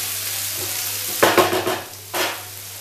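Potatoes frying in a pan over medium heat, with a quiet sizzle that rises into a few louder bursts of stirring and scraping near the middle and again toward the end; no one speaks.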